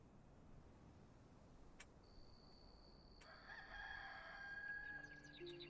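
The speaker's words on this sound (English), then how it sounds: "We've had a cock-a-doodle-doo. The rooster spoke." A rooster crows at dawn in the video game Enshrouded, a faint, distant cock-a-doodle-doo rising late over a quiet, hissing ambient backdrop.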